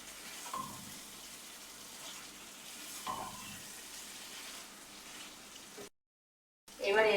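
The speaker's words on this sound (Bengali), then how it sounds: "মশলার সাথে চিকেনটাকে ভালো করে মেশাতে হবে।" Chicken tossed with spices in a hot pan gives a soft, steady sizzle with occasional scraping stirs, faint and close, broken by a brief silence before a louder clatter at the end.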